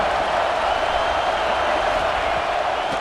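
A stadium crowd in an American football video game roars steadily as a broad, constant wash of cheering and noise, loud and unbroken throughout with no distinct voices on top.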